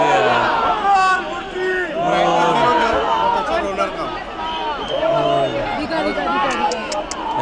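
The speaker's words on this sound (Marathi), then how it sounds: "बघा लालबागच्या राजाला किती गर्दी आहे" A dense crowd packs the street for the Lalbaugcha Raja Ganpati immersion procession in Lalbaug, Mumbai, with a continuous hubbub of many overlapping voices and nearby talk and shouts.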